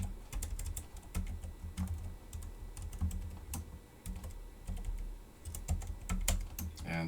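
Close, steady typing on a computer keyboard, with quick bursts of key clicks separated by brief pauses and a few louder strikes.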